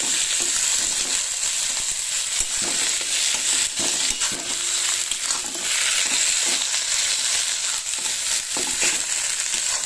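Papad stuffing with spices and a generous handful of coriander leaves fries in a wok, a steady loud sizzle with occasional stirring scrapes throughout.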